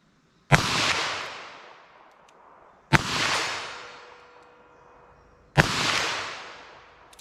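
Three loud, sharp handgun shots, .22 Magnum or 9mm, fired outdoors a few seconds apart, each followed by a long rolling echo that fades out.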